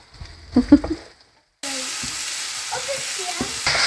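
Onions and tomatoes hit hot oil in a pan for chicken biryani, a steady loud sizzle starting abruptly after a few clatters and brief talk, holding up close with occasional stirring scrapes.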